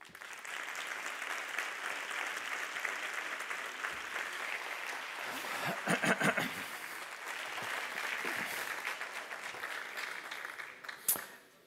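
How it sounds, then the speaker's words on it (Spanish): A conference audience applauds steadily for about ten seconds, a dense patter of clapping that swells briefly midway and tapers at the end. "Quiero que recibamos con un aplauso enorme a Eugenio Fuentes"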